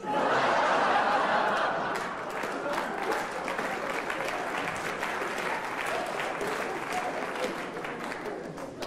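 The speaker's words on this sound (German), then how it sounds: "Ach, und da klatschen sie." Audience applause at a live comedy performance: sustained, dense clapping from a large crowd mixed with scattered laughter, loudest at the start and holding steady throughout.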